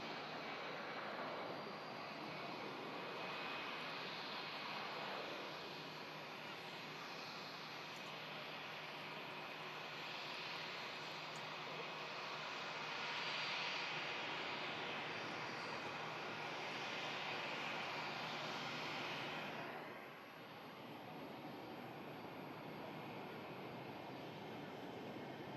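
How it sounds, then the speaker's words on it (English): Airplane passing overhead near an airport, a broad steady jet roar lasting about twenty seconds that swells slightly in the middle and then fades, heard alone without talk. "Watching all the planes."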